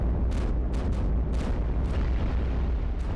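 Cannon fire in the video game iBomber Defense, a series of about six sharp explosive booms at irregular intervals over a constant low rumble of game noise.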